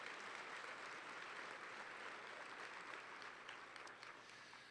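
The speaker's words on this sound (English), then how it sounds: "Let's give both districts a nice round of applause." An audience at an education event claps in a steady wash of applause that holds throughout and tapers slightly at the end.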